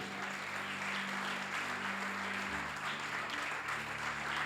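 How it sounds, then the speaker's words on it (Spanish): Congregation applauding during a church service in San Pedro Sula, Honduras, a steady, even roar of clapping from a crowd, moderately loud throughout. "Puede darle un aplauso al Rey."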